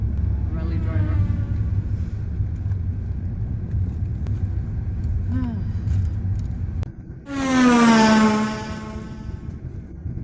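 Car driving a dry road toward Lake Sevan in Armenia, a steady low engine and tyre rumble heard from inside the cabin, briefly broken by a short voice-like sound near the end.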